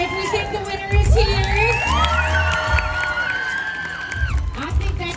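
A crowd at Knott's Boysenberry Festival 2023 cheering and clapping to pick a winner: loud whoops, high children's shouts and rising excited yells over clapping for several seconds, with a brief lull before a final burst.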